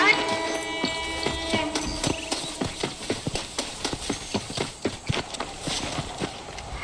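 Horse hooves clip-clop at a steady riding pace in the Red Dead Redemption video game, loud and close, with game music and character dialogue playing over the rhythmic hoofbeats.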